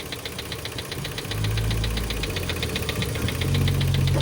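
A Mitsubishi Xpander engine runs noisily up close after an oil change, a steady rapid ticking knock over a low rumble that grows slightly louder partway through, no speech.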